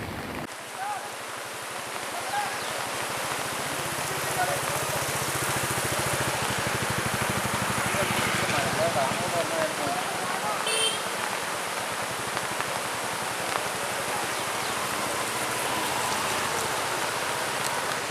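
Steady heavy rain pours down in a dense, continuous hiss that lasts throughout, close and fairly loud.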